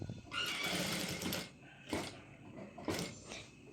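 A sewing machine top stitches a lining in short close bursts: one longer run of rapid stitching, then two brief spurts, with fabric handling between them.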